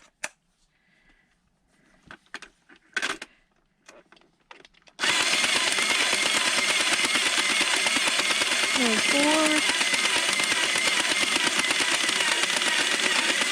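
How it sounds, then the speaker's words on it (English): A power drill drives a 40-pin knitting machine, a loud, steady, rapid mechanical whir with a continuous rhythmic clatter that starts abruptly after a few seconds of quiet handling noises, with a voice briefly audible over it. "I'm going to go ahead and use my drill"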